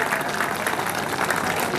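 Audience applause fills the space as a steady, dense clapping from a crowd at a commando mentor's talk, continuous and fairly loud throughout with no pause.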